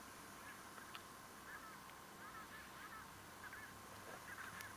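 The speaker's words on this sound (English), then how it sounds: "Can hear our birds in the background." Faint bird calls chirp intermittently in the background over a steady low hum, distant and scattered across a few seconds, on a safari at sunset.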